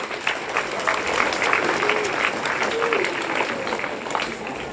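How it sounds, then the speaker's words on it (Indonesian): Audience applause breaks out in an Indonesian-language class quiz: a continuous, moderately loud wash of many hands clapping for several seconds, with a faint voice underneath. "Silakan berikan tepuk tangan."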